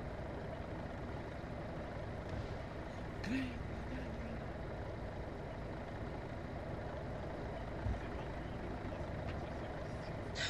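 Military trucks rolling in a convoy in Arma 3 Iron Front, a continuous low engine rumble with a couple of brief clanks and a faint hiss, steady throughout.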